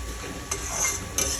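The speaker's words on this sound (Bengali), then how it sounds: "তো এটাকেও মোটামুটি অনেকক্ষণ ধরে কষাতে হবে ভালো করে" Spice paste for rohu fish masala curry sautés in a pan with a low sizzle, broken by two brief scrapes of a stirring spoon.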